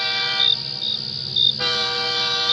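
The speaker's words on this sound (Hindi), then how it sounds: "तभी दूर से एक हॉर्न सुनाई देता है।" A cartoon sound effect of an approaching train horn at night, with rumbling rail noise beneath high whistle-like blasts: a short one, a pause, then a longer blast trailing into a sustained tone.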